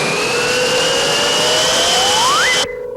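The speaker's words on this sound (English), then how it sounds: "Mark evades him until Hudo conjures a large vacuum that sucks Mark up." A large vacuum sound effect from a kookie children's TV show, a loud steady whooshing roar with a whistling tone sweeping upward before cutting off abruptly, no voices.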